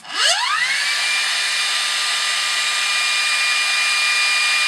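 Power supply for an ARC-5 command receiver switched on and running, giving a steady loud whirring hum with a rising whine at startup, like a dynamotor spinning up, then holding constant throughout.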